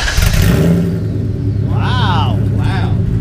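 A Coyote-swapped Foxbody Mustang with a full 3-inch exhaust runs at close range with a steady, deep, loud rumble throughout, while a voice briefly speaks over it near the end.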